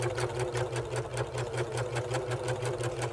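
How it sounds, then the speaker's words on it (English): A serger runs slowly through thick fabric scraps while sewing a dish drying mat. It gives off a steady, regular chug of stitching strokes at a relaxed pace, close by and continuous throughout. "because this is a thicker material on my serger, I am going just a little bit slower."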